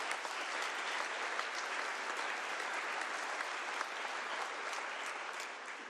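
An audience at a joint legislative session for a state of the state address applauds, with sustained, even clapping from a large crowd that fills the room and tapers slightly at the end.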